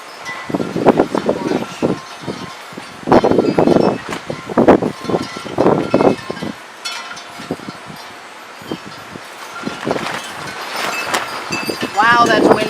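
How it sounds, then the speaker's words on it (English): Gusty wind buffets the open air in uneven rushes and bursts of noise, with rustling and scattered handling sounds mixed in. "Wow, that's windy."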